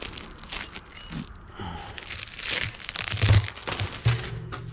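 Shrink wrap packaging from an unboxed Vevor 4/8 honey frame extractor being crinkled and torn by hand, giving irregular close crackling bursts that swell louder toward the end.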